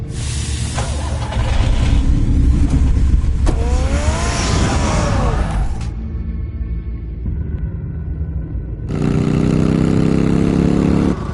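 Batman's car engine in the Telltale Batman video game, a steady mid-pitched rumble running throughout, swelling louder near the start and again toward the end, with other game sounds layered over it.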